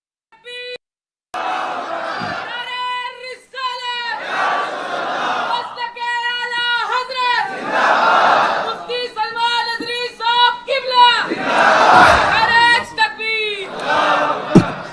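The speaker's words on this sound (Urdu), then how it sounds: "آج کی رات صرف میرے مصطفیٰ کے نعرے، کسی اور کی عزت نہیں، صرف نبی پاک کی" Large crowd at a religious gathering chanting slogans in loud repeated bursts of many voices, with brief pauses between calls and responses.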